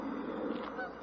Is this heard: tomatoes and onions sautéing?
no